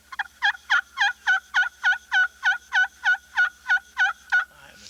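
About a dozen evenly spaced hen yelps, worked on a friction turkey call of slate or glass with a peg, come in a quick steady rhythm, clear and close, followed by a soft scrape at the end.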